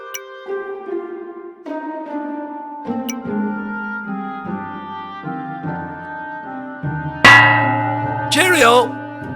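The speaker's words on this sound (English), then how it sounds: "Soon as that bell rings, I'm off." A clock bell strikes in the Bertram Fiddle point-and-click game on Nintendo Switch, ringing several separate tones in turn before a louder, brighter final clang closes it out.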